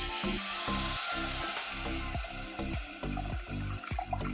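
Fish curry masala bubbling in a pan, a steady close sizzle and hiss with soft rhythmic popping bursts throughout, no talking.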